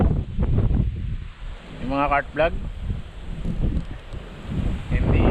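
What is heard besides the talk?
strong wind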